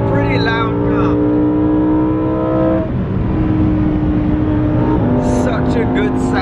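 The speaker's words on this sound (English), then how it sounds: "It's a pretty loud car." Lamborghini with a V10 engine cruising on the motorway with the roof up, a steady loud engine drone with a slight pitch shift midway and faint talk in the cabin.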